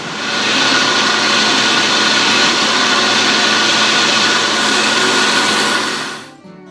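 A blender purees cooked winter squash soup in a steady, loud, continuous whir that holds for about six seconds, then cuts off, close up with no talking.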